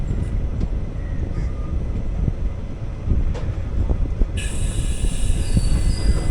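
The 06061 Summer Special Express heads toward Nagapattinam Junction, with steady low rumble and rhythmic wheel clatter heard close from on board, plus a faint high squeal near the end.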